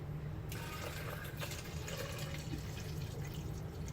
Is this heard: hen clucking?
no